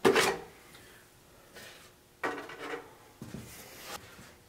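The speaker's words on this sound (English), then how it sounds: "So now I'll just take the body off, give you an overview of all the parts I put on." Plastic body shell of a Traxxas Slash 4x4 RC truck being pulled off the chassis: a few short scraping, rubbing clicks and rattles in separate bursts, fairly quiet and close, with no talking.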